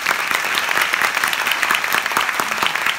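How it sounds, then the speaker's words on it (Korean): Theater audience applauding the stage crew at a closing-night curtain call for the musical 'Western Story', a dense, steady wash of clapping from many hands throughout, fairly close and full. "지금은 스태프분들한테 박수를 한번 주시면 감사하겠습니다"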